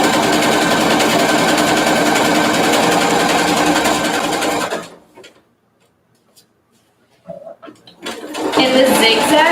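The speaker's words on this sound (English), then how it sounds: "since we're literally sewing 2 stitches together and it's a zigzag, I'm gonna have to go really slow" A sewing machine runs a zigzag stitch on high-waisted jeans with a loud, steady mechanical whir that stops abruptly halfway through, then restarts after a near-silent gap and a few brief clicks.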